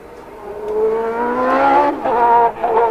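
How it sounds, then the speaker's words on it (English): A 1990 Formula 1 car restarts and revs at Monza during Saturday qualifying, its engine note climbing steadily in pitch over about two seconds, then dipping and rising again in short bursts, loud and close with no talking. "Well, Michele's got the engine going again."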